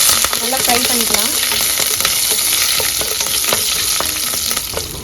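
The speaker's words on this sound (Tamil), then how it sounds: "இது எல்லாத்தையும் சேர்த்து நல்லா ஃப்ரை பண்ணிக்கலாம்." Cumin, garam masala, curry leaves and sliced green chillies fry in hot oil with a steady, dense sizzle and crackle, broken by occasional stirring clatter close by throughout.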